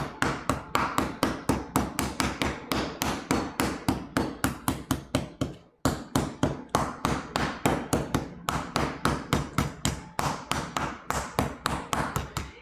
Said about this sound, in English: And hopefully the mallet banging isn't too loud for y'all.